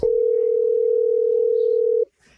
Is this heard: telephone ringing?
yes